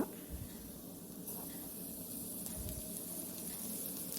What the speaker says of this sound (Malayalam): ഒരുവിധം വെന്തു കുറച്ചും കൂടി ക്രിസ്പി ആവാനായിട്ട് നമുക്ക് ഇത്തിരി എണ്ണ ഒഴിച്ചെടുക്കാം